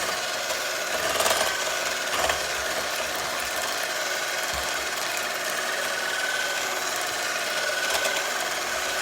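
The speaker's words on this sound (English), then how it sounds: "Mix it until there are no lumps" Summer pie filling with sweetened condensed milk is stirred in a bowl, giving a continuous rubbing, scraping texture with a few louder knocks of the utensil, close and steady with no voices.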